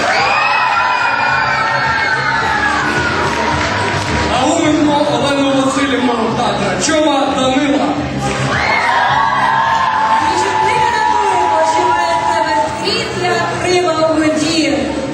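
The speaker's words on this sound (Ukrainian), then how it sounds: "Підгучні оплески, зустрічайте" Audience at a stage show erupting in cheers and shouts, loud and continuous, with an announcer's voice talking over the noise throughout.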